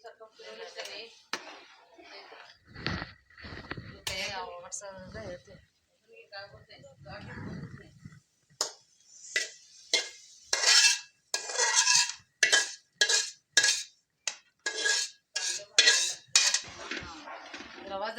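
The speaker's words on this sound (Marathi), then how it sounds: "थोडं थोडं घालून हलवायचं का म्हणजे ते गाठी होऊ द्यायचं नाही" Semolina (rava) being stirred and roasted in a pan, a spoon scraping and clinking against the metal in short repeated strokes while a person talks over it.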